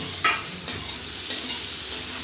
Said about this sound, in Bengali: সবটা একসঙ্গে ভেজে নেবো